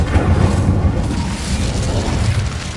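An Incendio fire spell cast in Hogwarts Legacy, a loud, dense whooshing roar of flame with a deep rumbling body sustained throughout.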